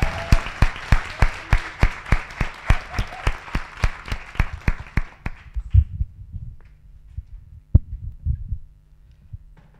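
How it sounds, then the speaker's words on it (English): An inauguration audience claps in a steady, rhythmic unison beat for several seconds before the applause breaks up and fades into a quiet room with a few scattered thumps. "let's give it another round of applause"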